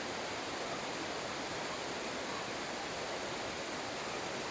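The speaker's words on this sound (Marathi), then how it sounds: "अशा प्रकारे आपल्याला धबधबा दिसत आहे" A forest waterfall in the rainy season pours as a steady, even rush of water, constant and moderately loud with no voices.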